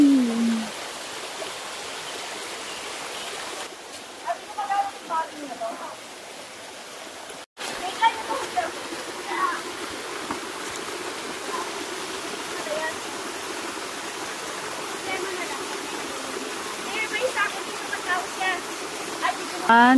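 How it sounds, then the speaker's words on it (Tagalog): A waterfall on the Bulacan Peak trail gives a steady, full rushing roar throughout, with people talking over the constant wash of water. "Ito pa yung isang falls."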